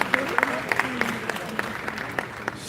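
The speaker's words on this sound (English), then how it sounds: "if you're clapping, clap." Scattered audience clapping at a law and regulations panel event, a handful of distinct claps spaced out unevenly while voices talk over them in the room.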